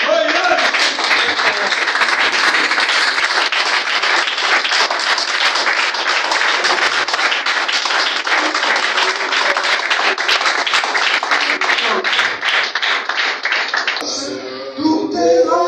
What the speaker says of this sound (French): Si elle t'a enrichi, tiens-toi debout. Et acclame très fort.